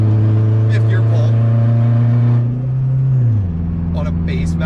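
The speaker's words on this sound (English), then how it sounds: "On a base map, do you hear that turbo?" A turbocharged 8th-generation Honda Civic pulls hard in fifth gear on the highway, with a loud, steady engine drone that climbs in pitch and then shifts down in tone, turbo whine riding over it.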